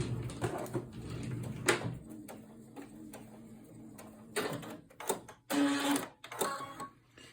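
Sewing machine stitching along a line for single fold fabric binding, short bursts of rapid mechanical whirring separated by pauses and small clicks, close and moderately loud.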